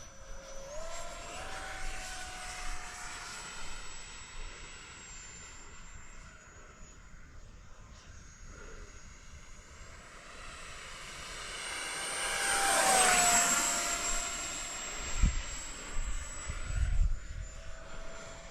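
A tiny MB-339 RC jet flies after a hand launch, its high electric ducted-fan whine steady and moderately loud, swelling as it passes close overhead and then fading, with wind buffeting near the end.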